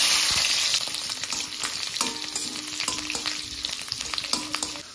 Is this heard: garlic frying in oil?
yes